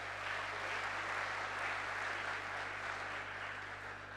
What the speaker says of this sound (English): Please give yourselves a round of applause for all that endeavor and effort.